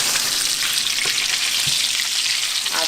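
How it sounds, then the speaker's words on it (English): Smoked sausage sizzles and fries in a hot pan, a loud, steady crackling hiss up close with a few faint stirring knocks and no talking. "You hear the sizzling over here"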